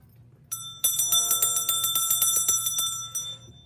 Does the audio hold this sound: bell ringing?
yes